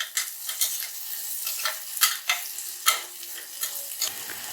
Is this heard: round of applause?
no